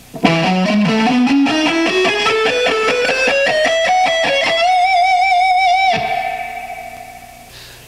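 Heavily distorted electric guitar plays a rapid ascending run of picked notes, then holds a sustained, vibrato-laden high note that cuts off and fades, loud and up front with echo on the tone.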